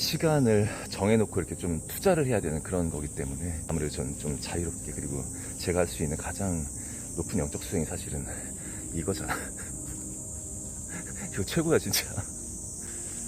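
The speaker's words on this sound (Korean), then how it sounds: "새소리 들리고 매미소리 자연스럽게 들리고" Cicadas buzz in a steady high drone among forest trees, running throughout while a person talks at length over them in the foreground.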